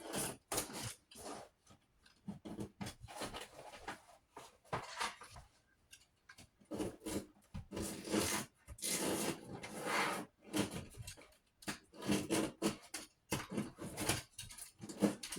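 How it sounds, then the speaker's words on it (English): An old, falling-apart 1879 book has its spine cut off, giving quiet, close, irregular scraping and slicing strokes with brief pauses and no talking. "So I'm just going to cut off this spine."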